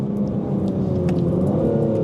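A 2025 Aston Martin Vanquish supercar drives along with a steady, low engine rumble and road noise heard from inside the car.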